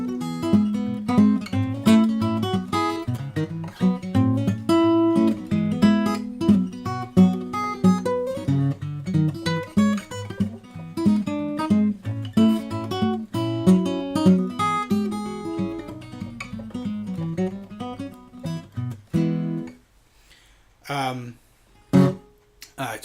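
Piedmont-style fingerpicked acoustic guitar with alternating bass lines under a syncopated melody, played solo and close in a living room, busy and steady, then sparse plucked notes with pauses near the end.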